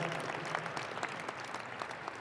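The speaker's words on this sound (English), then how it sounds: "Would you all give our presenters a round of applause for their work?" An audience at a community cabinet meeting gives a round of applause for the presenters, steady clapping from many hands throughout, moderately distant and without talk.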